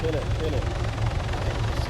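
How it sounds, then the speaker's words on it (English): A helicopter landing on a rooftop in the video game Arma 3, a low, steady rotor thump and engine drone running throughout, partly under people talking. "there's another helicopter landing on the roof"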